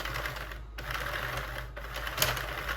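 A Sentro knitting machine cranked steadily, giving a continuous whirring, clicking mechanical rattle with brief pauses in the rotation, close and fairly even in level.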